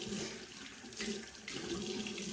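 Tap water running steadily into a sink while the face is rinsed, a close, continuous splashing hiss with brief louder surges.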